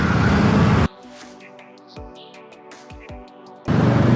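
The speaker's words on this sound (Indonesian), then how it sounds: "Nih motor berlalu lalang nih kalau lo lihat nih" A loud street roar cuts to a muffled engine drone with whining tones as motorbikes pass close by, recorded on a Hollyland Lark M2S wireless mic switching noise cancellation, then the full traffic noise returns.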